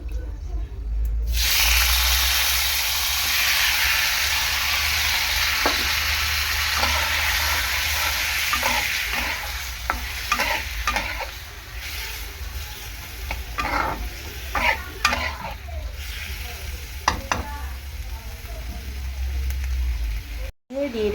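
Chopped ripe red tomatoes frying for a festive-style chutney, a strong steady sizzle broken by repeated scraping stirs of a spatula in the pan, with a person talking over it.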